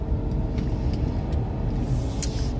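A car drives along with a steady, low road and engine rumble heard from inside, continuous and fairly loud, with no talking.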